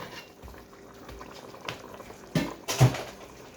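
Water in a pot of Puerto Rican beef stew with meat and carrots bubbles at a low simmer, with soft irregular pops and a couple of louder bursts near the end.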